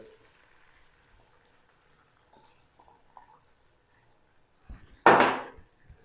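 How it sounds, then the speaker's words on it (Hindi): Finely chopped onions hit hot oil in a pan for chicken karahi, giving a sudden loud sizzling burst that settles after a second. Faint kitchen clinks come before it in near quiet. "प्याज को भी तकरीबन 1 से 2 मिनट तक फ्राई कर लेंगे, नरम और सॉफ्ट होने तक"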